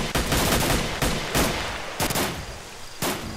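Rapid automatic gunfire from a weapon in S.T.A.L.K.E.R.: Shadow of Chernobyl, a loud, close, continuous rattle of shots broken into several sustained bursts with brief gaps.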